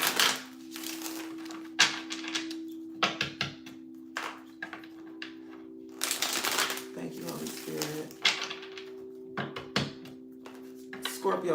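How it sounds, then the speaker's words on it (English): Tarot card decks shuffled by hand, crisp papery riffles and taps in short irregular bursts, close and moderately loud, over a steady low hum in the room. "Let me finish cleansing these decks, charging them, and shuffling them."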